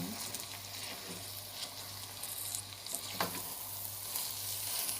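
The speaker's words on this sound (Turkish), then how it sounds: "Üzerine şimdi yeşil zeytinlerimi Rondodan geçirdim. Onları ilave ediyorum. Böyle karıştırıyorum." Tomato paste stirred with chopped green olives in a hot pan for an Antep-style olive börek filling, giving a steady close sizzle with soft scraping stir strokes throughout.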